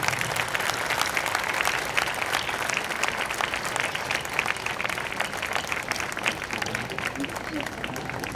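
A crowd at a youth division activity demonstration applauds a children's group, dense, steady clapping that stays loud and even throughout.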